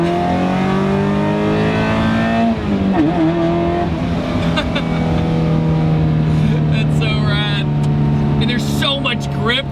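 A Mazda Miata with a swapped Chevy Equinox engine pulls hard in second gear, its engine note rising steadily and loud from start to finish, with a faint tire sound near the end.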